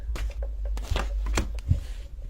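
Tarot cards are shuffled by hand in a quick series of close, crisp riffling and slapping bursts, with a few soft thumps and no talking.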